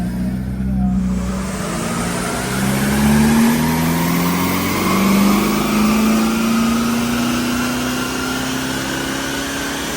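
A Honda car engine with a 4-to-1 manifold and induction kit revs hard on a dyno, its pitch climbing steadily then holding in a loud, buzzing, sustained wail.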